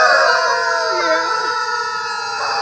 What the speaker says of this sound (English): Put an army of squeaking chickens on your bumper.